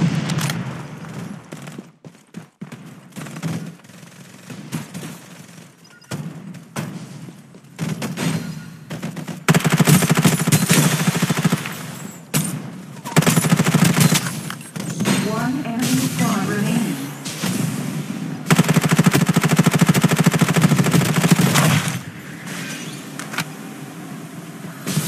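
Gunfire from the battle royale shooter Farlight 84, heard in repeated bursts of shots and rattling automatic fire over a busy game mix, loud and close, with short quieter stretches between.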